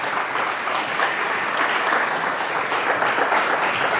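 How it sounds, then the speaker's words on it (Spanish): A large audience gives a rabbi a strong, sustained round of applause at a live interview event, dense clapping holding steady and loud throughout without any talk. "me pongo de pie delante de un fuerte aplauso al Jajam Abraham Tobal"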